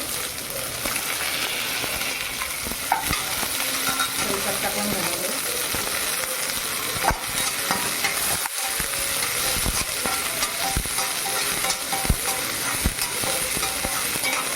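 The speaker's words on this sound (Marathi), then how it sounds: "आता कांदा घालू आपण मटर पण टाकून देऊ त्याच्यामध्ये" Chopped onion and green peas tipped into a hot pan of roasted peanuts for poha, crackling and sizzling steadily with scattered clinks of a spoon against the pan, close up throughout.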